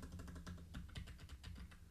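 Rapid, close clicking from a computer keyboard fills the moment, with keys struck in quick irregular bursts and no voices.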